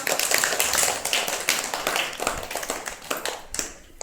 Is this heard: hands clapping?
yes